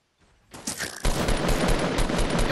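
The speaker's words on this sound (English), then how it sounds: "Yo, he's shooting me!" Weapon fire in the battle royale game Fortnite starts after a moment of near silence, building into a dense, loud, continuous burst of shooting close by, with no talking.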